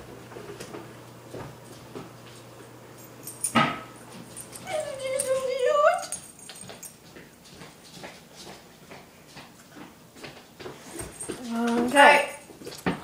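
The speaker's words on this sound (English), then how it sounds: "You wanna see my cute doggy?" A pet dog indoors gives thin, high whimpers and a few short yips in two separate bursts, with quiet household clatter and faint background voices around it.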